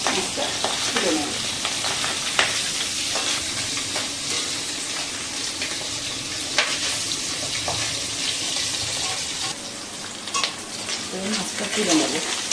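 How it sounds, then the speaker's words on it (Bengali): Pabda fish frying briefly in hot oil, a steady broadband sizzle with occasional stirring scrapes and clinks throughout, fairly close and continuous. "পাবদা মাছ বেশি ভাজলে ভালো লাগে না, তাই আমি করে একটু ভেজে মাছটা তুলে নেব।"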